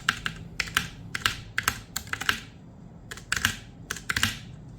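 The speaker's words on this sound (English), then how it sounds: "And now this is how it sounds with these keycaps and red switches." Keycapped buttons with red switches on a budget hitbox fight-stick controller clacking in quick, irregular bursts of presses, close and crisp with no talking.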